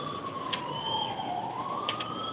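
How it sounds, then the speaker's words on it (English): A wailing siren sweeps steadily up and down, clear but somewhat distant, with no talking. "You hear the sirens."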